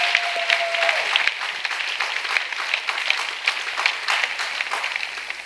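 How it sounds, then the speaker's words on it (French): A church congregation claps in sustained, dense applause that fills a large space, loud and steady throughout with a faint voice underneath. "Let's clap for Jesus Christ."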